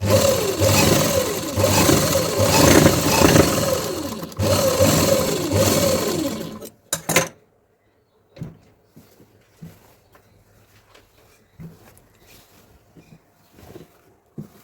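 A sewing machine stitching a saree blouse runs in a steady, close whirring burst for several seconds, then stops, leaving faint handling taps and clicks of fabric being moved.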